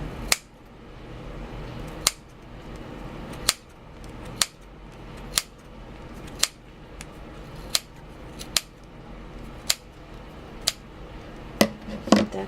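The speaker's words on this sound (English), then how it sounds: "Turn it around and start trimming this down the center." Scissors snip through yarn while a gnome ornament is trimmed down the center, giving about a dozen sharp, close cuts spaced at a steady, unhurried rhythm above a faint room background.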